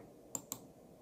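Two sharp, faint mouse clicks in quick succession on a computer's save button, near and dry against a quiet room, with no talking.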